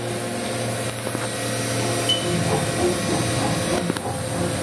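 A 2014 Haas VF-6SS 4-axis CNC vertical mill with spindle running at 7,000 RPM, a steady whining hum with mechanical rattle and hiss, close and continuous.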